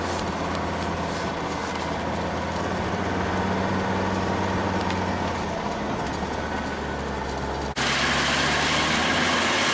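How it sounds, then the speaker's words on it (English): A Mercedes truck engine holds a steady high idle with a constant low rumble, close and continuous, shifting slightly in tone near the end; no talking. "I'm leaving it on high idle here when I don't have a hill to park on, so my engine doesn't vibrate as hard."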